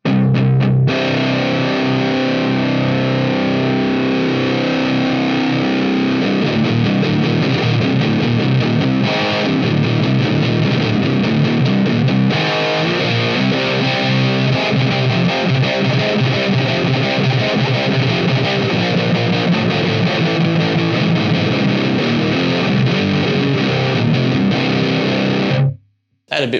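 An electric guitar plays through a Nux Recto distortion pedal, thick and sustained, loud and continuous before cutting off abruptly at the end.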